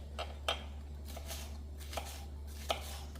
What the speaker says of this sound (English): I'm going to cut it finely down in strips, and then I'll flip it and dice them up